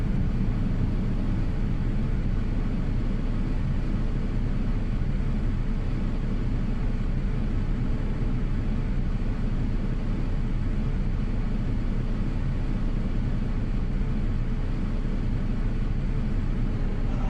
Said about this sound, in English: That's engine number 1 has started nicely.